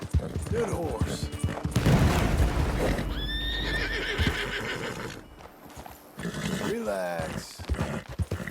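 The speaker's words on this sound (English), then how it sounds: "Good horse." In the Red Dead Redemption 2 area of New Austin, a horse whinnies and snorts several times between hoofbeats. Gunfire and crashing noises come and go in the background, and someone speaks at points.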